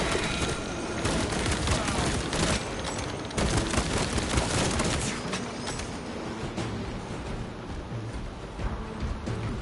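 A whole magazine is emptied in Warhammer Space Marine 2, rapid loud gunfire bursts crackling in dense succession with booming impacts, close and continuous.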